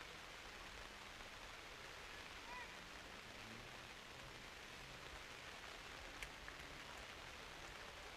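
Steady rain falls on a wet turf field during a boys' varsity lacrosse game, a dense even hiss that holds at a constant low level throughout with no other distinct sounds.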